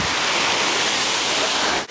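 Water pours and gushes into the ocean at Santa Cruz State Beach, making a steady, loud, close rushing sound that dips only briefly at the end.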